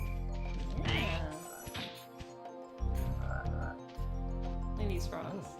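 Frog enemies in a Spyro video game croak loudly in deep, repeated pulses alongside clanking game effects, with people chatting faintly underneath.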